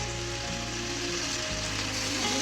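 Water hits a hot cooking pan and sets off a loud, dense, continuous sizzling hiss that holds steady without a break, close up.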